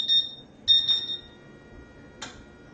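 An S&A CW5200 water chiller powering on, giving two clear high electronic beeps close together and then a short click or chirp a little later, alone in a quiet room.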